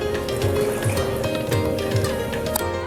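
Water left over from grinding the spice paste is poured into a pot of cooking dal, giving a steady, gentle trickling and splashing that runs close by for a few seconds.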